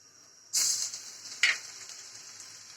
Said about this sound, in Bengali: তেলটা আমার গরম হয়ে গিয়েছে, দিয়ে দিচ্ছি রসুন কুচি